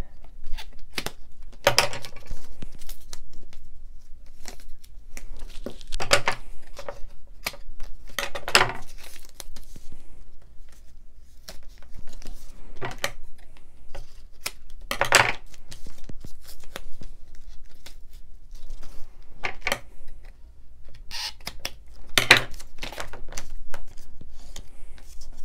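Scissors cutting foam tape at a crafting desk: scattered sharp snips and crinkling sticky-backing sounds, spaced irregularly with quiet gaps between them, close and clear.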